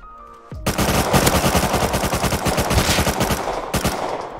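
Rapid automatic gunfire from the survival game Rust, a loud, close, steady stream of evenly spaced shots lasting several seconds after a short quiet start.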